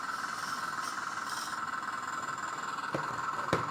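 A 1/14-scale E20 RC excavator model runs its engine sound effect, a steady, even droning hum that holds without a break at moderate level, with faint clicks near the end.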